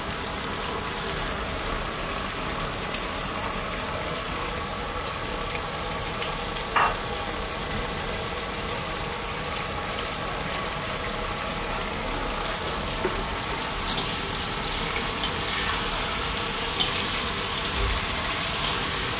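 Adobo meat, lean with no fat, stirred in a pan, giving a steady sizzle under continuous scraping and stirring with a few sharper clinks.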